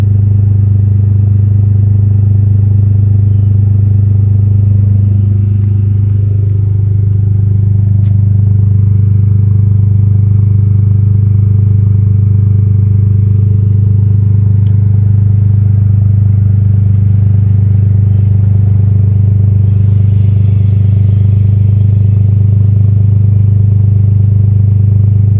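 Toyota GR Corolla fitted with a 2J Racing exhaust and mid pipe, idling with a loud, steady, deep drone for the whole stretch, a small change in tone partway through and some faint clatter, no voices.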